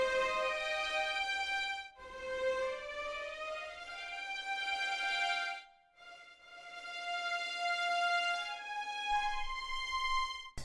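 Sampled orchestral strings hold long sustained chords that shift slowly, with two brief gaps between phrases, smooth and full.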